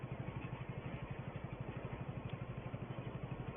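Tractor engine running in a video game, a steady close rhythmic chugging with regular low pulses and a clattery edge, unbroken and alone with no talk.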